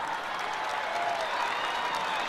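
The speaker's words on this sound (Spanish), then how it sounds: "Fuerte los aplausos, por favor, para Isidro y Jero." Steady applause from a festival audience greeting guests at the Jesús María folk festival in 2024, a continuous wash of clapping and crowd noise at moderate distance, heard alone without talk.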